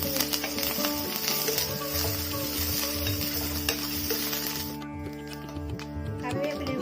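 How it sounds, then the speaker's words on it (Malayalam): Onion and curry leaves sautéing in a pan, a steady close sizzle with scraping stir strokes, the hiss easing slightly near the end. "കറിവേപ്പില കൂടി ചേർത്ത് നമ്മളിത് ഒന്നുകൂടി നല്ലതുപോലെ വഴറ്റിയെടുത്തിട്ടുണ്ട്"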